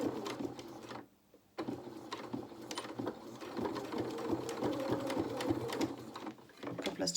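A sewing machine stitching the leg of a Luna Lapin rabbit toy whirs steadily and close up, with a brief pause near the start, while a person talks over the mechanical clatter.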